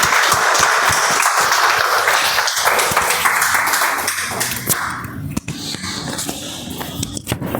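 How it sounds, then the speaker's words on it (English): Loud, dense clapping from a Toastmasters meeting audience for Toastmaster Maithili, close and vigorous at first, then thinning and fading over the last few seconds. "Let's give her a huge round of applause."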